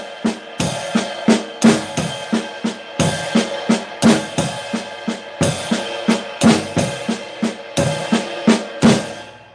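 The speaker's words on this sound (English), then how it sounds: "when he hits the cymbal with his right hand, he'll hit the bass drum at the same time" Drum kit pattern with the right hand striking a cymbal together with the bass drum, crashing accents recurring every bar over a steady run of drum strokes, close and loud with no voices.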